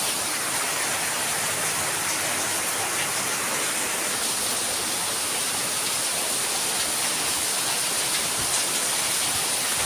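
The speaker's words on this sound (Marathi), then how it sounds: "साफ केल्यानंतर पाऊस लागला बघा" Steady, dense hiss of heavy rain falling without pause, constant in loudness throughout, with no voices.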